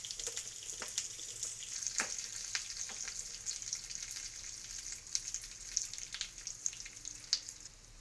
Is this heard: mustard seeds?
yes